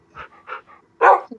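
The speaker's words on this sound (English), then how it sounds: "So many dogs." Several dogs bark and yip in a video game, a few short separate barks followed by one louder, fuller bark near the end, close and with no talk over them.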